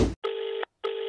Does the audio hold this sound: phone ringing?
yes